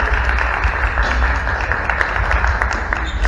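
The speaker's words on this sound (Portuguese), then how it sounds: "uma salva de palmas para o nosso treinamento" People applaud a glass piece made by a master glassmaker at a crystal factory in Gramado, with dense, steady clapping close by and no clear talk.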